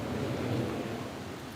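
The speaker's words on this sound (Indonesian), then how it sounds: "Semoga hujan itu membawa manfaat buat kita semua." Steady rain hiss with a low rumble of thunder, dense and continuous broadband noise filling the scene at moderate loudness, no voices present.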